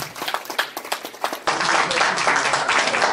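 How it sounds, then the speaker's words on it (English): A town hall meeting audience breaks into clapping, starting with a few scattered claps and swelling into dense, sustained applause that fills the room for the rest of the moment. "Please feel free to clap, please."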